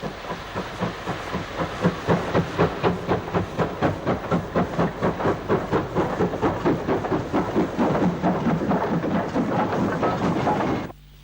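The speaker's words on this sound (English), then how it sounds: "A parcels train, consisting of a single van, comes off the loop line, hauled by Fowler Design 264 tank number" A Fowler tank locomotive hauls a one-van parcels train off a loop line, its loud, close exhaust beating in a strong regular chuff that speeds up slightly over a steady hiss before cutting off abruptly.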